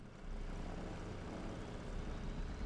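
A helicopter in the survival game Rust drones with a steady, dense engine and rotor roar, continuous and moderately loud throughout without talk.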